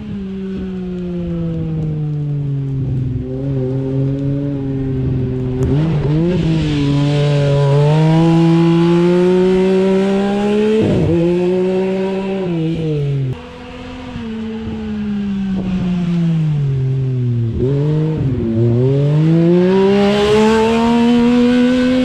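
A Yamaha YXZ 1000 side-by-side drifts in snow, its engine revving loud and sustained with a rising and falling whine as the throttle swings up and down through the slides. No one talks over it.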